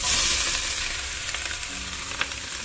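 Shrimp shells frying in olive oil in an already hot pan, a steady bright sizzle with small crackles and pops throughout, close and fairly loud.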